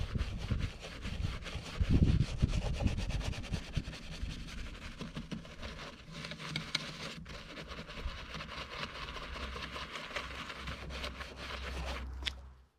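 A stiff bristled brush scrubs around the fuel cap of an older, neglected car, giving a steady, close scratchy rasp with a brief louder burst of scrubbing early on.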